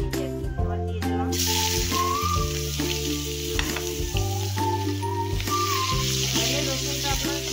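Four cloves of garlic, chopped onion and dried chilli frying in hot oil, a loud, dense sizzle that bursts up as the ingredients drop in and keeps hissing close by, with a faint steady hum underneath.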